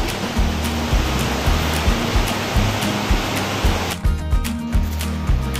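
Steady rain pours over a viewing tower, a dense continuous wash of falling water with periodic louder pulses, and the hiss thins out near the end.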